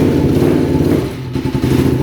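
A motorcycle engine on a $1,000 bike that struggles to run, loud and close, with a rough sputtering rumble that dips and falters midway before picking up again.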